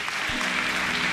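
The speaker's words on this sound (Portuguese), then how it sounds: "Você pode aplaudir ao Senhor aí?" An audience at a church kids' training event breaks into a short burst of steady applause, moderately loud and continuous without voices over it.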